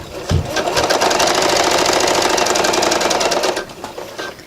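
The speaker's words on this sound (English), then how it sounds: "And then just start sewing." A sewing machine runs steadily while stitching a zipper bag with a 5/8-inch seam allowance, giving a continuous rapid mechanical whirr for about three seconds after a brief start thump, then slowing to a stop.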